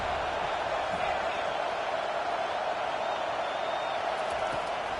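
Steady roar of a stadium crowd in the video game NCAA 25 on a third-down defensive stand, a broad continuous wash of noise holding at a constant level with faint voices inside it.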